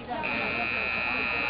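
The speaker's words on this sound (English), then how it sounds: "There's the buzzer." A steady, sustained electronic game clock buzzer blares for over a second amid loud crowd noise at a college football game.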